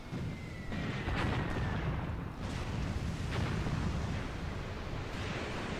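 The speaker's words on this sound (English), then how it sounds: "that's our artillery strike that's supposed to guard the bridge here. Nice, it's coming down now" Artillery shelling in the tactics video game Graviteam Tactics, a dense rumbling barrage of distant booms with a few sharper blasts, continuous and moderately loud.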